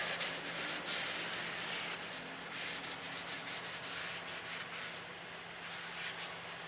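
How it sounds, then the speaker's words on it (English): A rag wipes down a front brake rotor on a 2012 Dodge Ram Bighorn 1500, giving continuous quiet rubbing and scrubbing with repeated strokes and no voices. "Wipe it down."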